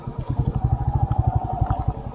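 A motorcycle bought for 17,250 rupees, the rider's first bike, running with a steady, rapid low engine throb and exhaust pulses that stay close and even throughout.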